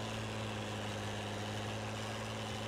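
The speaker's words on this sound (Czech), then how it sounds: "Záda ty kopce celkem dobře ten traktor." In Farming Simulator 19, a tractor works its way uphill with a continuous deep engine rumble, loud and unchanging throughout, with nobody speaking.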